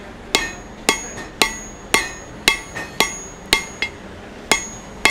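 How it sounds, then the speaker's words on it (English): Steel hammer blows on an anvil while forging a leaf, half on and half off the edge, ringing strikes in a steady rhythm about twice per second, loud and close with no talking. "Some half on, half off hammer blows, right? My hammer blows are hanging over the edge."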